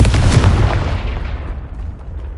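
The Confringo fire spell in Hogwarts Legacy lands as a loud, close explosive boom that rumbles and fades away over about two seconds.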